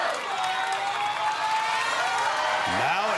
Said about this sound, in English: And this crowd is chanting Sergio.